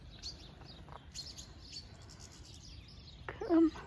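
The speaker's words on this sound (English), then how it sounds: "Birds." Birds chirping outdoors: scattered faint tweets and short calls over a quiet background, ending with one brief, louder, lower sound.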